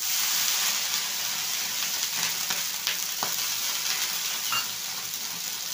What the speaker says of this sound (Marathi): आता इथे गॅसची आच कमी करून यावरती थोडंसं पाणी शिंपडायचं आहे